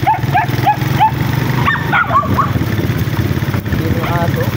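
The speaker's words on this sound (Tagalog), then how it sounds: "Yun yung aso." A dog barks in a quick run of yips and barks at close range over a running motorcycle engine on a street, with people talking nearby.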